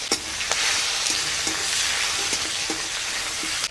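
Chopped onion sizzles steadily in hot mustard oil and katla fish fat in a wok, with a spatula clicking and scraping against the pan at irregular intervals over the continuous close frying hiss.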